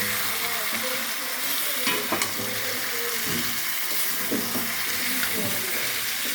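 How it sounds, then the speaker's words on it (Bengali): Chicken frying in a pan for Bengali chicken curry, a steady loud sizzle with intermittent scraping stirs of a spatula, close up and continuous. "চিকেনটা দিয়ে তিন থেকে চার মিনিট একটু ভালো করে ভাজবেন"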